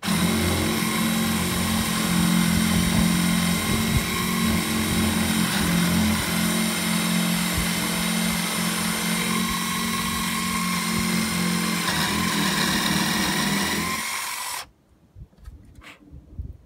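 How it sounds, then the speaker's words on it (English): A steady, loud power drill motor whines continuously for about fourteen seconds boring a large hole into wood, then cuts off abruptly, leaving a few faint clicks and handling noises. "I'm going to just drill a hole with a pretty big drill bit"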